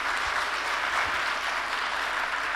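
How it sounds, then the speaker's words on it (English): Dense, steady audience applause after a panel discussion, a large crowd clapping loudly and continuously with no voices over it. "Can we hear a round of applause?"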